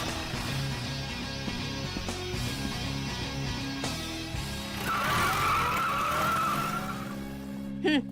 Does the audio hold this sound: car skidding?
yes